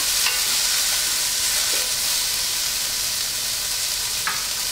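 Onion, celery and fresh parsley sizzle loudly and steadily in a hot pan for shrimp pancit bihon, with occasional scraping stirs over the constant frying hiss.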